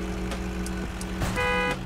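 In the Food Truck Simulator video game, a car horn toots in short bursts over a droning engine, with one longer honk near the end at close range.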